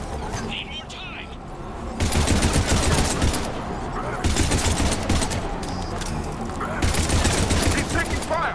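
Gunfire crackles in a video game battle, in dense, sustained bursts of rapid shots that swell and ease in waves. Voices shout over the shooting at times.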